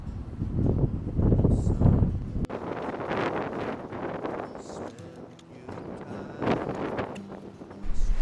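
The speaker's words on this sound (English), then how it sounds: "today is really windy" Gusty wind buffeting the microphone in heavy rumbling bursts that rise and fall, with faint rustling in the background.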